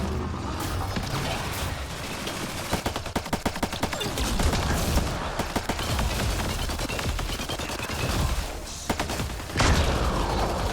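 Rapid, sustained gunfire aimed at an orb in Mass Effect Andromeda, with rattling bursts of machine-gun shots over a constant low rumble of combat ambience, moderately loud.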